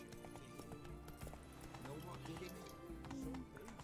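Hooves of the horse Roach galloping in The Witcher game, a rhythmic clip-clop under a constant music and ambience bed, with someone talking over it.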